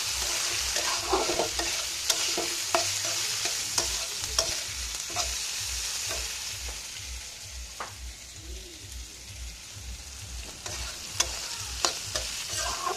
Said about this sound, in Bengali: তারপরে এই চালটা দিয়ে ভালো মতো কষাবো